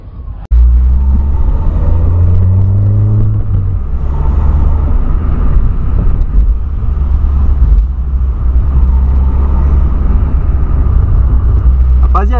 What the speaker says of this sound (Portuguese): Vocês só escutando o barulho do polo